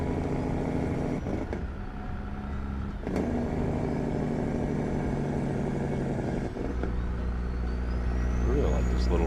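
Kenworth W900A truck with a Cummins C16 engine in American Truck Simulator, a continuous low engine rumble and drone throughout, with a brief rise in revs near the end; a voice talks over it.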